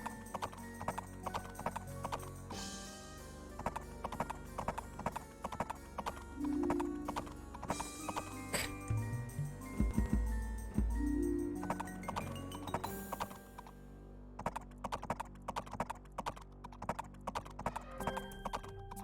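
Cavalry horses in the real-time strategy game Age of Empires, with rapid, continuous clip-clopping hooves and an occasional whinny, loud and busy over game effects.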